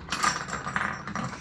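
Metal tools being gathered and put away in a home workshop during a Gas Gas 125 two-stroke build, a quick run of close clinks and ratcheting clatter.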